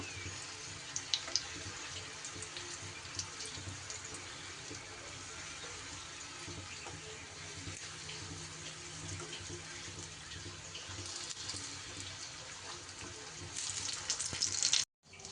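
Vegetarian omelette rolls fry in rice bran oil in a pan, giving a steady, soft sizzling hiss that continues throughout and brightens near the end before stopping abruptly.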